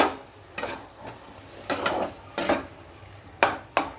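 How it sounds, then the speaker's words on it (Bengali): Pasta cooking water poured into a pan bit by bit, each addition giving a short burst of hiss and sputter, five or six bursts over a few seconds, close and distinct with no speech. "এই জলটা অল্প অল্প করে দিয়ে দেব আমি কিন্তু এই পাস্তা সেদ্ধ করা জলটা কখনোই ফেলি না"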